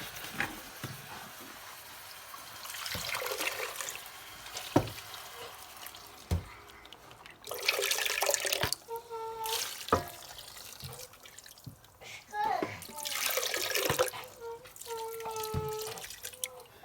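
Raw goat tripe and fish rinsed under running tap water for Ghanaian groundnut soup, with intermittent splashing and dripping bursts close by, broken by pauses and a few clinks.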